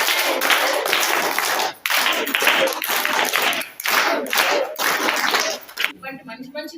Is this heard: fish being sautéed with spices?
no